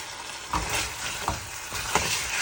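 Seasoning for oven-baked ribs being mixed in a bowl, a steady scraping swish with three soft thumps of the utensil against the bowl, close and moderately loud, no talking.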